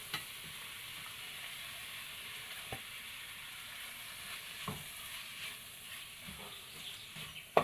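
Shredded chicken with spices and carrot is stirred and mixed in a pan, giving a faint, steady sizzling hiss with occasional soft scraping clicks of the utensil.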